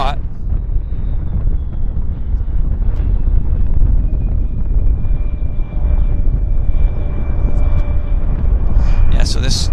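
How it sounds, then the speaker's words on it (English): Fixed-wing aircraft landing at Vancouver Airport, a steady broad engine roar with a faint rising whine, continuous and moderately loud over wind noise for the whole stretch. "it's nice to see the aircraft landing in that direction in this spot"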